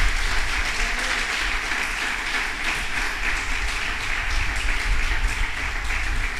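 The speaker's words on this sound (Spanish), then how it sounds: "Denle un aplauso al Señor." A church congregation applauds during a Spanish-language sermon, producing a continuous wash of clapping over a low rumble of the room, with no speech.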